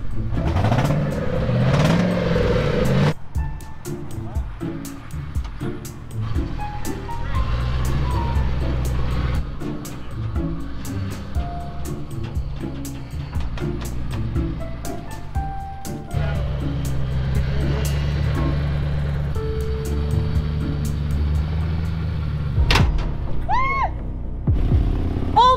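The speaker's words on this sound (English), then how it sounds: "we're gonna back the driver's side tire up the tow truck ramp" A car engine idles and revs as the vehicle backs its driver's-side tire up a tow truck ramp, a steady close rumble with rising surges and mechanical clanks throughout, loud and continuous.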